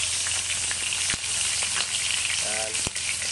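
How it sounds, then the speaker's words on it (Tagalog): Leftover milkfish (bangus) from a tinola sizzles steadily in hot oil in a pan, a continuous close crackle with a few brief sharper pops. "Next is magprito tayo nito guys, yung natira sa ating tinola. Iprito na lang natin. Piniritong bangus."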